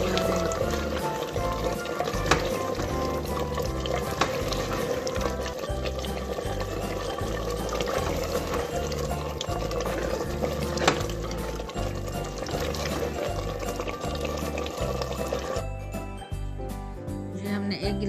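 A glass of water pours into beef curry simmering in a pot, giving a continuous, close splashing and sizzling wash with faint clinks, steady throughout and briefly quieter near the end.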